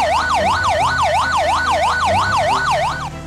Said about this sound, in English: Fire truck.